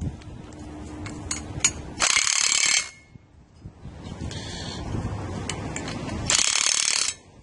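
An impact gun bolts a construction bracket onto a foundation pile, firing in two loud, close bursts of rapid rattling hammering with quieter mechanical clatter between them and no speech.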